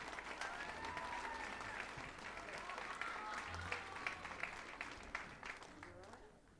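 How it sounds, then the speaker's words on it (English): A concert audience at the Rhapsody Rotorua 2019 festival applauds a young girl brought up on stage, with full, sustained clapping from a sizeable crowd that slowly thins and fades toward the end. "give her a little round of applause"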